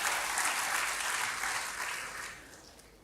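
A church congregation applauds during a sermon, a dense wash of clapping that is loud at first and then gradually fades toward the end, with no voices on top.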